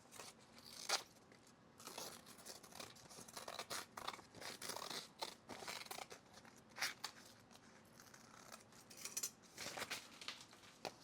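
Freshly sharpened scissors slicing through fabric while making a duffle bag, a series of close, crisp snipping and crunching cuts in irregular bursts, quiet overall with no talk.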